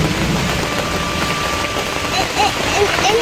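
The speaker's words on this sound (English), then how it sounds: "we are in the middle of a thunderstorm" Rain from a thunderstorm falling steadily at a forest campground, a dense hiss of drops on surfaces, with faint birdsong or chirps toward the end.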